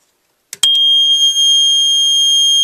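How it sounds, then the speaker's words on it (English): A Monaco Vulcan 1 fire alarm control panel in alarm mode lets out a piercing, steady high-pitched piezo tone that starts abruptly after a click and holds loud and continuous. "That's it in alarm mode."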